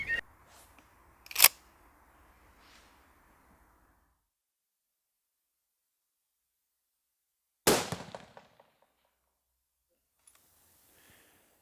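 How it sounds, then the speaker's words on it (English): Two sharp rifle shots from a rifle with a ZEISS scope set for a 200 meter target, several seconds apart, each loud crack trailing off in a brief outdoor echo, with quiet stretches between. "I load the rifle, set the BDC Plus to 2 for 200 meters, take my first shot,"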